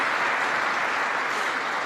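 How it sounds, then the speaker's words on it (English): Troops at Fort Drum, New York, applaud steadily for a couple of seconds, a dense, even wash of clapping from a large audience at a vice-presidential address. "I thought that might get an applause."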